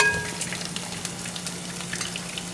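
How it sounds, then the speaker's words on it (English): Shrimp sizzle in hot oil with a steady, rolling crackle and no voices over it. "Okay, that's exactly what you want, that kind of rolling sizzle."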